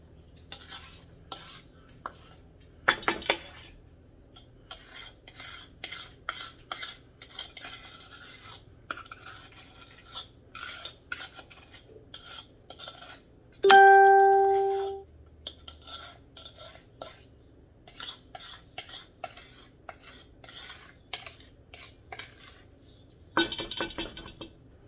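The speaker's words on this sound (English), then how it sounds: "Trying to get all this butter and the sugar out in this dish here." A utensil scrapes and clinks against a dish while butter and sugar are cleared out for banana nut bread, with irregular taps and strokes throughout and one brief louder ringing clink midway.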